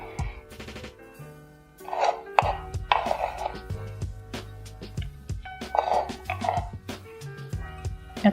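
A knife chops fresh cilantro on a cutting board in a home kitchen, giving sharp, irregular thunks and taps up close, with a voice speaking in the background at times.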